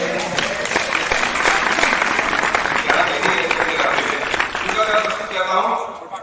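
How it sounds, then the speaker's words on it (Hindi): A crowd at a comic Hindi poetry gathering claps loudly and steadily, sustained dense applause that tapers off near the end, with voices faintly mixed in. "आज तो मजे से प्यारे तालियां बजाइए"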